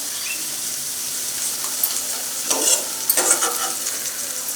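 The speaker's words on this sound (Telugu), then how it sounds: "ఆయిల్లో మాత్రం ఫ్రై చేయాలి ఎండు చేప అయినా కానీ." Dried fish frying in oil in a pan, a steady hiss of sizzling that swells into louder crackling bursts toward the end, with no voices.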